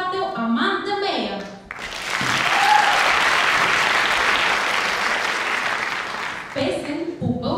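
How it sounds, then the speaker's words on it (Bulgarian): A crowd at a school Christmas show in Vidin, Bulgaria, bursts into sustained applause for a music group that fills several seconds, with singing or voices just before it and talk resuming as it fades. "Аплодисменти отново за музикалната група и за Аманда."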